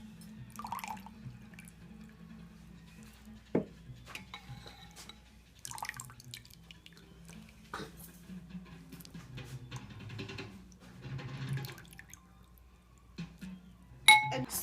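Onions scooped with a slotted spoon into a bowl while making guacamole, with water dripping, sporadic light clinks and scrapes of metal on dishware, and a sharper clang at the end, all fairly quiet.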